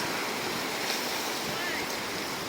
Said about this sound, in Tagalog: Kay strong waves.